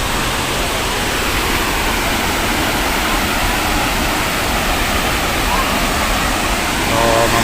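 Steady, loud roar of a waterfall nearby, a dense broadband rush that holds even and unbroken throughout, with no clear voices over it.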